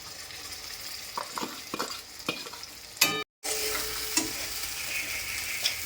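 A ground flat-bean paste with onion and green chili is stir-fried in a pan: close, steady sizzling broken by scattered spoon clicks, a brief silent gap, then a louder resumed hiss.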